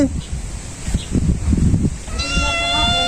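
A cat meows several times close by, with people talking in the background.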